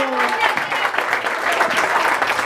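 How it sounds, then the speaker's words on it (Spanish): Applause from guests at a quinceañera party celebration with mariachi, a short burst of clapping from a small crowd, close and steady throughout. "¡Un aplauso!"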